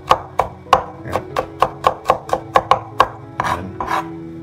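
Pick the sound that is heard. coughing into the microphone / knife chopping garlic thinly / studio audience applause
knife chopping garlic thinly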